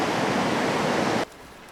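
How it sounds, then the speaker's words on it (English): Waterfalls on Canada's Mississippi River roar as a loud, broad, continuous rush of falling water close by, then cut off abruptly to near quiet about two-thirds of the way through. "don't come here thinking you're going to run all these rapids, because they're waterfalls"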